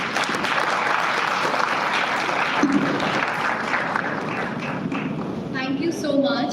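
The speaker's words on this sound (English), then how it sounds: "So I think you should applaud for that." An audience at a live panel event applauds, a broad wash of clapping that holds steady for several seconds, with a voice starting to speak over it toward the end.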